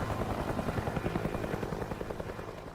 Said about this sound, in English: Barely any room to land a helicopter in there.